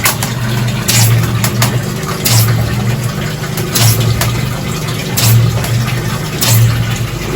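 A hydraulic extractor frame on a static pipebursting rig runs, pulling new pipe into a shaft; a loud, steady mechanical drone with regular surges and rhythmic clanks repeating every second or so.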